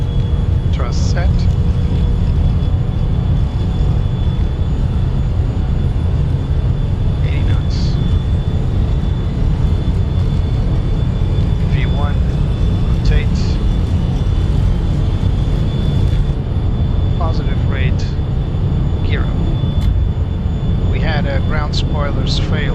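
Simulated Embraer Phenom 300E jet engines spool to takeoff thrust, a loud steady broadband roar filling the whole stretch, with occasional brief cockpit clicks and tones over it.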